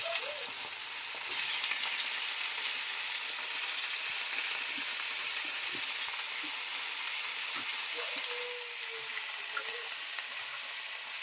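Brinjal pieces frying in a pan with softened onions give a loud, even, close sizzle with occasional light stirring, no one talking.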